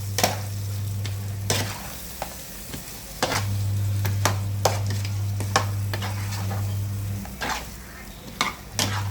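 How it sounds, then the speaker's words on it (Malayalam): A spoon stirs masala paste into potatoes in a cooking pot for homemade Surbiyan rice, with soft sizzling and repeated sharp clinks against the pot over a steady low hum. "ഇനി ഇത് നല്ലോണം ഇളക്കി കൊടുക്കാം."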